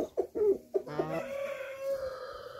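A large, heavy farm hen clucks nearby in a few short bursts, then gives a longer drawn-out call, fairly faint and without voices.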